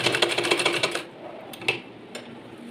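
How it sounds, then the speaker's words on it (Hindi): A sewing machine stitches cloth while a sleeve is being attached to a garment: a rapid, close, rhythmic run of stitching lasting about a second, then it stops, leaving only a few faint clicks. "और सिलाई करते जाना है"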